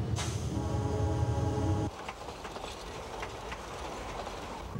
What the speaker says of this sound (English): The steam engine of the White Pass and Yukon Railroad still puffs through town